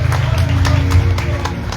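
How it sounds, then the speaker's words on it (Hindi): Audience clapping along during a live kirtan in praise of Baba's adornment, with sharp rhythmic claps over loud, dense devotional music and singing. "एक बार ताली बजा दो बाबा के श्रृंगार पर।"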